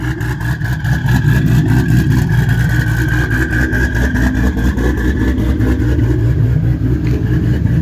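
A turbocharged car engine revs in its loud drive mode, a rough, rumbling roar held steady and loud close by, with a rapid pulsing throb running through it and no talking.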